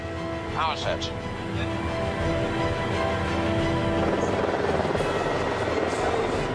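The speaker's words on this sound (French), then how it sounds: "Les pilotes mettent les gaz." Airbus A350 jet engines spooling up to full thrust at the start of its first takeoff on an airport tarmac, a broad continuous roar that builds and stays loud, with crowd voices and talk over it.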